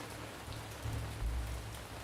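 Rain falls steadily in the survival video game Ancient Cities, a dense hiss of drops with a low rumble swelling in the middle, fairly close and unbroken, no voices.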